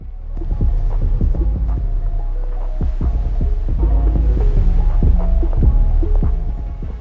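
Two overlapping songs play at once, their beats and melodies clashing, with heavy thumping bass throughout at a steady, fairly loud level.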